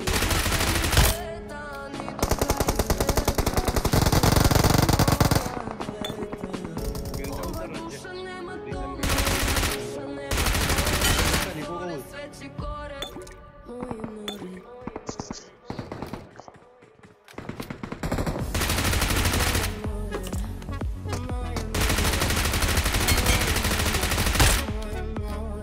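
Automatic gunfire in the BGMI mobile game's Zombie Edge mode, loud sustained bursts and rapid volleys of shots alternating with short gaps, under game sound effects.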